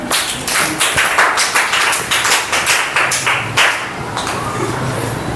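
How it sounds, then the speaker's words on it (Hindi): Scattered group clapping in a classroom, a steady run of fairly close, sharp hand claps with an uneven rhythm, going on for several seconds with no talking. "तालियां एक बार"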